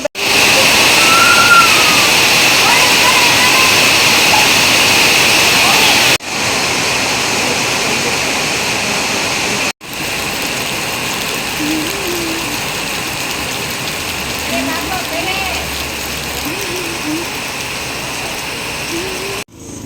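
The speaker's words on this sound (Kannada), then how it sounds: "ಮಳೆ ಬಂತು" Heavy rain falling in a village, a dense steady roar of water close by that runs throughout with brief cuts. Faint voices are heard now and then beneath it.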